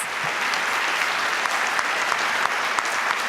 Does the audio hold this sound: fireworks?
no